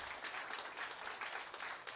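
A seminar audience claps together in a steady, dense burst of applause, fairly distant and moderately loud, holding throughout without speech over it.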